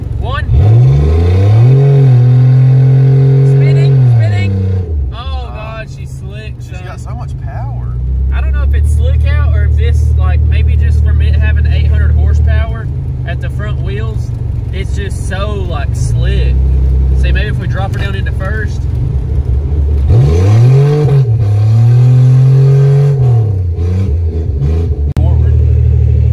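A Toyota revs and accelerates on a snowy surface during a traction test, its engine rising and falling loudly and up close, with people talking over it.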